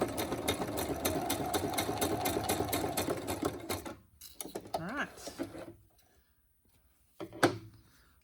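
A sewing machine runs steadily for about four seconds, stitching around a tag, then stops and starts in short bursts with clicks and pauses between them, close and fairly quiet.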